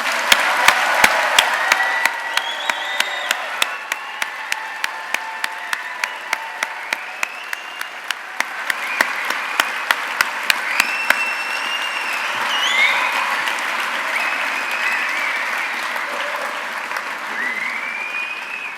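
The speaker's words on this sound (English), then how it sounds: "it deserves one more round of applause for all of our graduates" An audience at a 2023 AECC University College graduation ceremony breaks into loud, dense applause, the sharp claps thinning into a sustained crowd roar of clapping that carries on steadily to the end.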